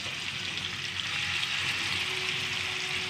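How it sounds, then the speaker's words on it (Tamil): Kiri fish fries in hot oil in a kadai, giving a steady, dense sizzling hiss that holds at even loudness throughout, with no talking. "கடாயில் எண்ணெய் ஊற்றி சூடு பண்ணதும் இந்த கீரி மீனை பாருங்கள் எடுத்து வச்சு"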